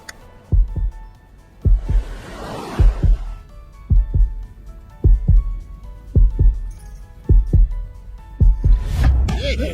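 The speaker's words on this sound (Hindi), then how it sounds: "मेरा दिल और तेजी से धड़कने लगा" A heartbeat sound effect in an Indian action film dubbed into Hindi: deep, booming double thumps pulse in a steady, quick rhythm, loud and close, with a soft whoosh sweeping past early on.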